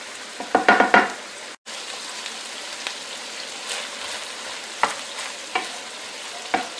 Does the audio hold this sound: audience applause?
no